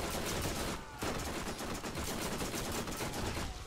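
A turret in the video game Borderlands fires rapid, continuous automatic bursts, a loud, dense rattle of shots with one brief pause near the start before the stream of gunfire resumes.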